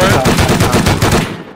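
Rapid automatic gunfire in an online shooter game, a loud close burst of evenly spaced shots lasting just over a second.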